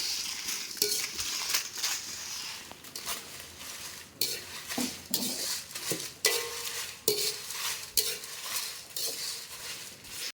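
Dried red chillies dry-roast in a pan and are stirred, with repeated scraping and clinking strokes against the metal in uneven bursts over a light background crackle, close and without speech.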